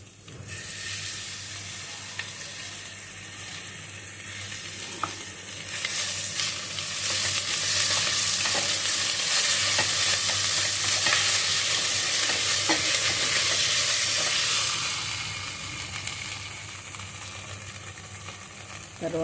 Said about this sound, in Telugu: ఉల్లిపాయలు వేగిన తర్వాత ఒక స్పూన్ అల్లం వెల్లుల్లి